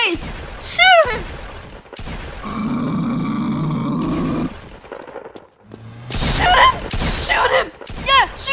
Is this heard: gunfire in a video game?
yes